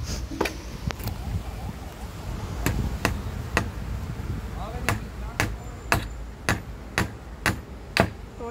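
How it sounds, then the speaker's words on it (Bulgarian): Hammer driving a nail into wood while building a treehouse, a series of sharp separate blows at an irregular then steadier pace, close and clear, with some voices talking faintly in the background. "ще забиваме трети пирон"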